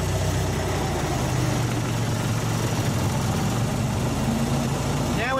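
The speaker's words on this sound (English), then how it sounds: "We increase the throttle a bit, and then we'll step on the left pedal to pull away." A Ford Model T engine running steadily with a low rumbling drone as it pulls away in low gear, fairly close, with someone talking over it.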